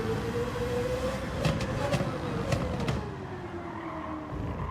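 A continuous whining racing car engine drone in Gran Turismo 7 that rises and falls slightly in pitch, with a few faint sharp clicks over a steady roar.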